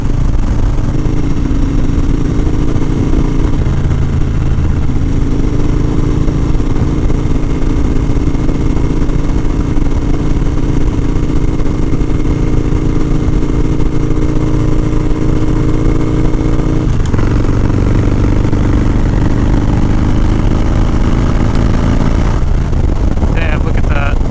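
An FXR motorcycle engine drones steadily and loudly while riding down the highway, with a constant low rumble and wind roar that shifts slightly in tone partway through.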